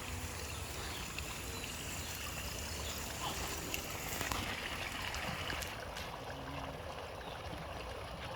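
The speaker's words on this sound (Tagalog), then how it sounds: "Nag-overflow ang tubig mainom na." Drinking water overflowing and splashing in a steady, continuous rush, with broadband trickling and gurgling close by throughout and no clear voices.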